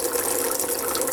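Water runs steadily from a water heater being flushed, a constant close gushing hiss with no breaks or talking.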